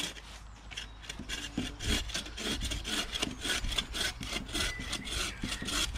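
A bow saw cutting through wood outdoors in a northern forest setting, steady rhythmic rasping strokes back and forth, close and continuous with no talking.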